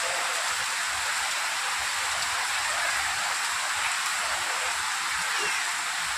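Heavy rain pouring down on an Eid morning, turning the ground muddy, a dense, steady hiss of falling water that continues unbroken and alone.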